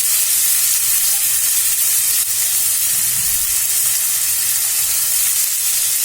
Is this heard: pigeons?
no